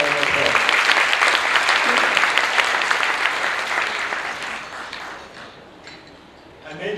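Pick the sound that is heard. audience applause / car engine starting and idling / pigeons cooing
audience applause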